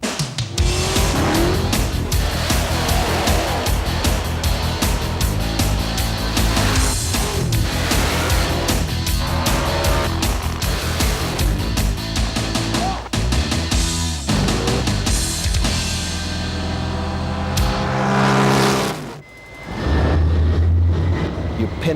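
A jet car launches with its afterburner lit, a massive, continuous roaring blast that stays loud and dense for many seconds, dips sharply near the end, then surges again with a deep rumble.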